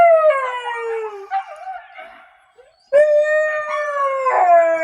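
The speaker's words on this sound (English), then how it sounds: "They're huskies, big huskies." Big huskies howl loudly up close in long, mournful, wavering tones, one howl sliding down and trailing off before a brief pause, then several voices rise together in a strong sustained chorus.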